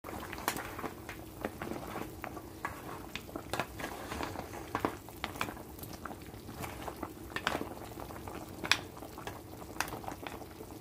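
A pot of Haitian bouillon soup bubbles on the stove, a faint, steady patter of small pops and soft sizzling close by, with no talking over it.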